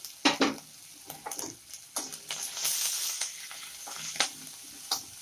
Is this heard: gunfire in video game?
no